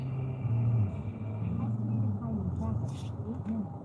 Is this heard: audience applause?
no